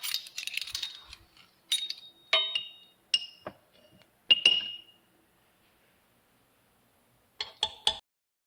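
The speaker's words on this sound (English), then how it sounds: "The next thing I'm going to add is a teaspoon of baking soda" A metal teaspoon clinks and rattles against a container while baking soda is measured for chocolate bar cookies, several short bright clinks in quick clusters, then a pause before a final burst of taps.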